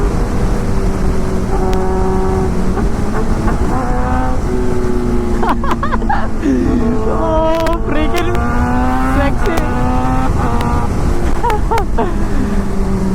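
A Suzuki GSX-R1000 superbike with auto blipper and quick shifter accelerates under a rider; the loud engine note climbs and drops repeatedly through quick gear changes over constant wind roar.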